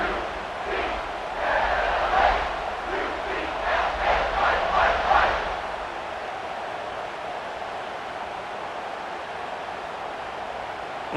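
Home crowd in the College Football 26 video game cheering in a stadium, a broad roaring swell with rhythmic chant-like pulses that fades to a steady distant murmur.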